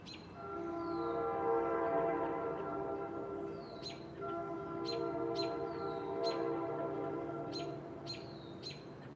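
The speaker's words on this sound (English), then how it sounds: "And there goes another train." A train passing at a distance with a steady low rumble and tonal rolling hum, while birds chirp repeatedly over it.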